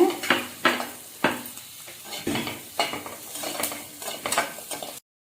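Capsicum sautéing in melted butter is stirred in a pan, giving a quick series of utensil knocks and scrapes over a light sizzle, then cutting to silence.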